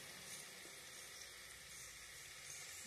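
Mutton curry sizzles and fries steadily in a pan, a continuous close hiss with faint stirring and no talking.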